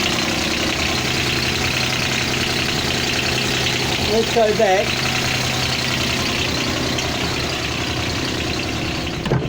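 A Nanni 21 marine diesel boat engine idling, a steady, close mid-pitched rumble with a regular knocking pulse throughout, and someone speaking briefly over it midway.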